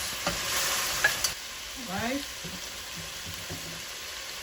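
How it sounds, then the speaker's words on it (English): Steady sizzling of goat meat frying in its own juices in a pan, a continuous crackling hiss with a brief spoken word over it partway through. "now it's frying in its own juice"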